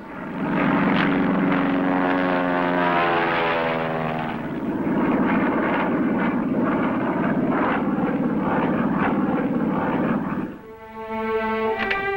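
A 1950s Air Force propeller airplane taking off, its engine roaring loud and close with a shifting droning pitch that swells, dips briefly, then climbs again.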